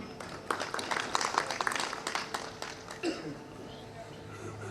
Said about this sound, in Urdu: ان کے لیے بھرپور تالیاں بجاؤ۔